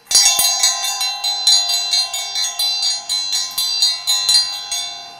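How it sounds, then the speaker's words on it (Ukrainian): A handmade engraved Indian hand bell rings in a quick rhythmic series of about fifteen bright metallic strikes, each ringing on and overlapping the next, close and loud. "Це ручний дзвінок. Індія, ручна робота, гравіювання, все."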